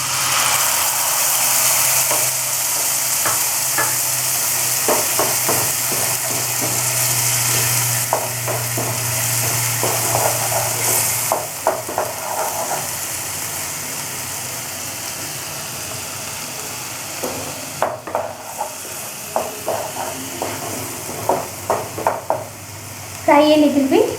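A spice paste frying in a pan for boneless fish kofta curry, a steady sizzle with clusters of spoon scrapes and taps against the pan, a low engine-like hum underneath, and louder clattering strokes near the end.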